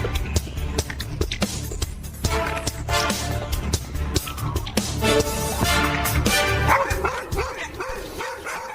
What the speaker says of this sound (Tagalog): Yung mga aso mo, tahol ng tahol!